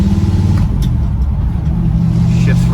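A 1959 Chevrolet El Camino with a 4-speed manual drives along, its engine giving a steady low rumble throughout, with speech faintly present over it.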